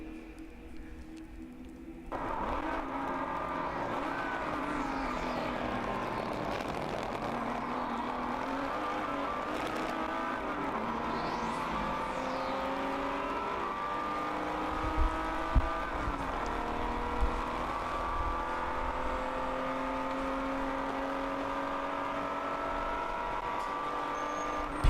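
Race cars of the ChampCar Endurance Series accelerate on the Sebring circuit after a green flag, with layered engine whines rising and falling as cars pass near and far, a sustained loud roar beginning abruptly and continuing throughout, no talk.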